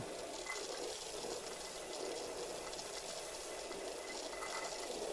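Water rushes steadily through a roof gutter, flushing out leftover organic debris and roof granules in a continuous broadband wash that never lets up and carries no voices.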